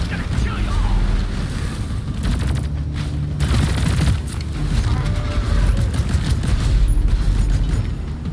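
Shotgun gunfire in a video game, repeated heavy blasts amid continuous rumbling combat noise, with voices chatting over it.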